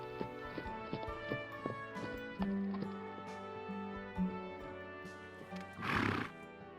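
Wild Nevada mustangs whinny in repeated, ringing neighs, with a sharp snort near the end, over scattered hoof clip-clops close by.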